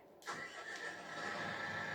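A John Deere tractor engine on an Alsatian farm cranks and catches, then settles into a steady mid-pitched running rumble, close by and fairly quiet overall.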